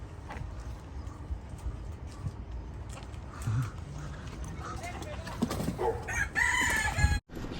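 Rooster crowing in the background of an outdoor scene, with people talking and scattered bumps and clatter around it.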